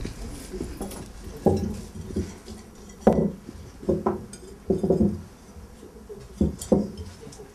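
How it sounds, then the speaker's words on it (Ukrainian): Ceramic plates and small objects are set down on a table during a St. Andrew's Day fortune-telling custom, giving a series of separate clinks and soft knocks, close and uneven, with no talking over them. "я ці предмети кладу під тарілки"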